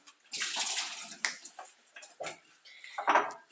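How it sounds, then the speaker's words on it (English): An onion rinsed under plenty of running tap water in a home kitchen, a close hissing splash that rises and falls with handling, punctuated by a few clinks. "Now I wash my onion with a lot of water"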